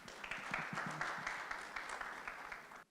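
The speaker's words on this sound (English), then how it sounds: "Please give him a big hand of applause." An audience at a seminar in Dubai applauds a speaker being welcomed to the stage, a dense sustained round of clapping that holds steady for about three seconds and then cuts off abruptly.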